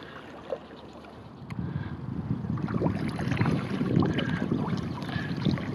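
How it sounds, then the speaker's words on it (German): A motorboat turns and heads back out along the Werftkanal, a shipyard canal off the Danube near the Floridsdorf bridge. A faint low hull-and-water rumble with wind buffeting rises after about two seconds and then holds steady. "wir wenden jetzt und fahren da also den Werftkanal da wieder hinaus"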